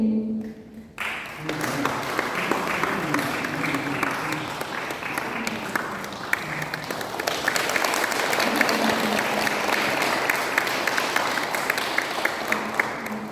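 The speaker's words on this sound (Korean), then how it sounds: "더 뜨거운 박수로 맞아주시면 좋겠습니다" Audience applause fills a commemoration ceremony for the 99th anniversary of the June 10th Independence Movement, starting after a brief quiet moment and continuing as steady, dense clapping from a large crowd throughout.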